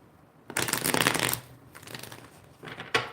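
A quick riffle of tarot cards being shuffled, a dense papery flutter followed by softer rustling and a final snap, close by.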